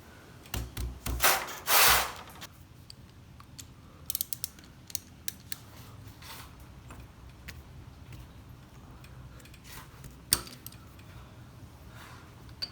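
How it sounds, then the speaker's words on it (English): Socket wrench working the tight oil drain bolt on a Honda CB125E motorbike: a burst of ratcheting clicks up front, then scattered small metallic ticks and clinks against quiet background. "So we just use the little socket to, I guess, break that lock grip on it"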